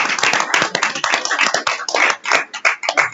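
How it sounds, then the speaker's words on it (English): A small group at a school board meeting claps for JROTC cadets in an uneven, scattered patter of individual hand claps, close and fairly loud. "let's give them all a round of applause"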